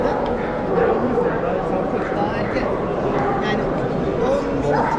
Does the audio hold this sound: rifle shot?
no